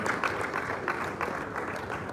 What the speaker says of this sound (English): a round of applause for him as he gets on stage